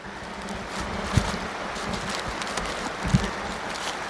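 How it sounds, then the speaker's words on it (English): Wind rushes steadily across the microphone in a garden with a broad, rumbling hiss, broken by two soft thumps. "it is a very windy day, making it quite comfortable to work"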